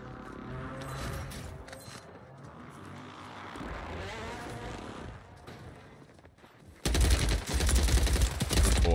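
Automatic gunfire in the Warzone video game, with bursts and engine-like rumble early, a lull, then a sudden loud sustained stream of machine-gun fire near the end.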